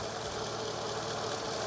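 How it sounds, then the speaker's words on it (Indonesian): A 2004 Toyota Camry G 2.4 with automatic transmission idles steadily and smoothly, a close, even engine hum with a faint ticking texture and no variation over the brief stretch. "Dan ini suara mesinnya."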